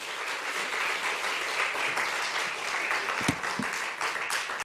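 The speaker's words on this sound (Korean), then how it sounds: "박수로 환영하겠습니다." A church congregation applauds in welcome, a steady broadband wash of many hands clapping throughout at moderate level, with a few sharper individual claps standing out near the end.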